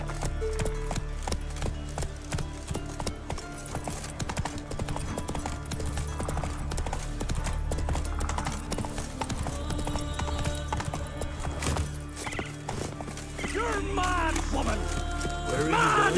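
Horse hooves galloping in The Witcher 3 video game, a fast, steady clip-clop that continues throughout alongside game music, ambient sounds and occasional voices.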